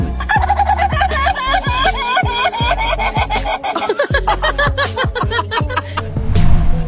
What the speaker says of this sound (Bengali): একটি মুরগির ব্যতিক্রমী ডাক শুনুন